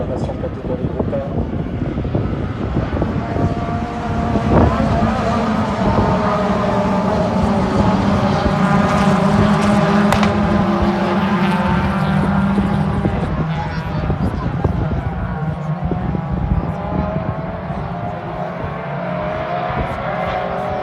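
Group A race cars roaring off together at the start of a race at the Pau Arnos circuit, a loud, sustained engine drone with shifting pitches, speech over it throughout.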